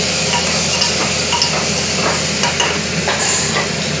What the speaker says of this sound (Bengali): অল্প তেলের মধ্যে আমি সাদা তেল দিয়েছি, আপনি চাইলে মাখন দিয়েও আমি প্রথমে শুরু করতে পারেন। এরকম করে আমি কষে নিচ্ছি